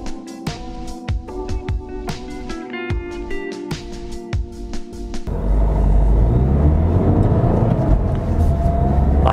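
An Opel Crossland driving on the road, its engine and road rumble swelling into a loud, steady roar as it accelerates, after a stretch of music-like tonal sound at the start.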